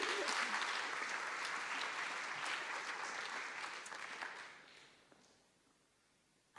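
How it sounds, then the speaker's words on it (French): Audience applause in a conference hall at a national gathering of social economy advisers, steady and dense for several seconds before fading away into quiet. "On applaudit."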